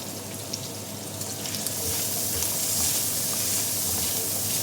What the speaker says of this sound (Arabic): فراح احمس البصل وبعدين يحمس البصل ويذبل اضيف عليه الطماطة